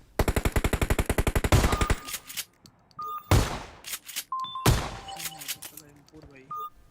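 Gunfire in the PUBG Mobile video game: a fast run of about a dozen rapid shots, then two separate heavy blasts with short gaps and small electronic tones in between.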